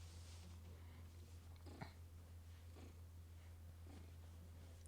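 Pet cat purring softly and steadily close by, a faint low rumble under a constant background hum, with a few small snuffling breaths.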